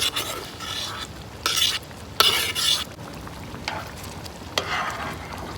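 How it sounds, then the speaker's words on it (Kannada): Paneer is stirred into masala in a pan: several scraping strokes of a spoon against the pan come in bursts over a low sizzle, close up, with no talking. "ಈಗ ಪನ್ನೀರನ್ನು ಸೇರಿಸ್ಕೋಬೇಕು"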